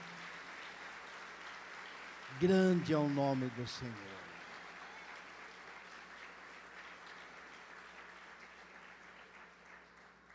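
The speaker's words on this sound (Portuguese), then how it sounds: "Vamos aplaudir ao Senhor nosso Deus" A church congregation applauds during an anniversary worship service, producing a soft, steady wash of distant clapping with a short spoken phrase partway through.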